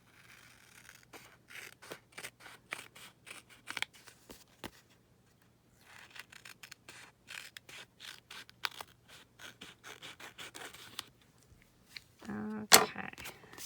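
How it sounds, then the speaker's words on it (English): Scissors trimming the edges of a paper tag, a long run of quick close snips in uneven bursts with short pauses, ending in a louder rustle and clatter. "I can trim this up with some scissors."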